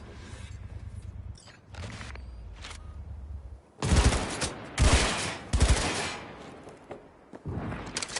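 Turret gunfire in a video game, with bursts of rapid shots cracking out in several loud volleys separated by brief lulls and quieter background noise.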